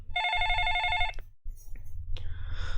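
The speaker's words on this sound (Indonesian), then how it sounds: "ponsel bapakku berdering." A mobile phone rings with a bright, repeating electronic tone for about a second, then cuts off, followed by soft rustling and a faint hiss in a quiet room.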